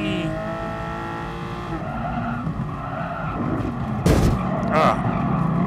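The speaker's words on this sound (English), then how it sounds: "I did not want to wreck it into him." A race car in Gran Turismo Sport, engine droning and tires skidding before a sharp collision with another car, followed by a second impact thud, loud and game-like.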